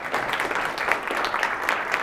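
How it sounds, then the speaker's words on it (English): Audience at a university entrepreneurship speaker series applauds a guest speaker, a moderate, steady patter of many hands clapping heard from a short distance. "So, big round of applause for Mike."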